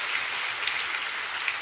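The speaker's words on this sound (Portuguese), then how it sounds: "Pode dar uma salva de palmas" Audience in a church clapping together, a dense, steady wash of applause filling the space without voices on top.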